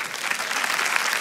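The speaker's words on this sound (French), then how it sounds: "par applaudissement dans cette salle." A comedy show hall audience bursts into dense, sustained applause, a loud continuous roar of many hands clapping.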